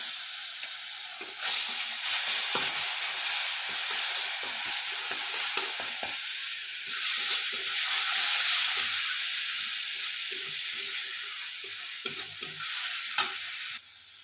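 Garlic paste sizzles and hisses steadily in hot oil with five-spice seeds, a bright continuous frying hiss close by, broken by soft scraping and knocking of a stirring spoon in the pan.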